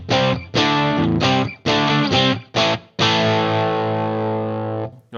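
Electric guitar played through a Headrush Gigboard with a crunchy distorted tone and the reverb mix turned down: several short choppy chords, then one long sustained ringing chord.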